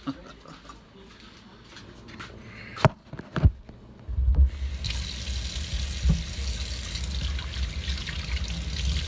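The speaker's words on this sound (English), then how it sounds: "Let me wash my hands." Hands being washed under a running sink tap, a few clatters and knocks first, then steady rushing water that continues to the end.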